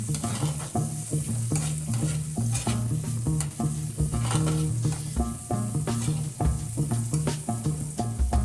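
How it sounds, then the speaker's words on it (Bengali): Eggplant pieces fry in a pan for a hilsa curry, giving a continuous close sizzle with the rhythmic scrape and clatter of stirring. "তারপর এগুলো একটু সামান্য ভেজে নেব"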